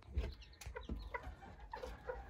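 A hen clucking in a backyard flock, a handful of short, close clucks in an uneven rhythm, quiet, with no talk over it.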